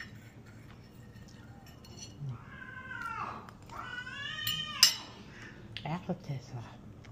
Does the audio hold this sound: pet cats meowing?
yes